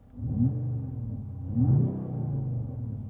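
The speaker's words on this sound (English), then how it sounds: "You put it in Sport Plus, mind you, the car's already warmed up, you can get some nice sounds." A warmed-up 2024 Mercedes-AMG CLE 53 Coupe in Sport Plus mode, its engine blipped twice in quick revs that rise and fall, deep and close, settling to a throaty idle between them.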